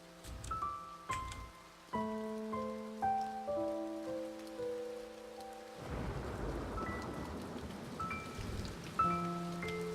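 Rain falls steadily in the video game A Bird Story, a continuous soft patter that fills the second half alongside tonal game music notes, with no voices.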